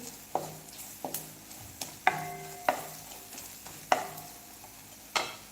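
A spoon stirs turmeric into a cooking mixture in a pan, with about seven distinct scraping strokes at an uneven pace over a faint, low sizzle and no talking.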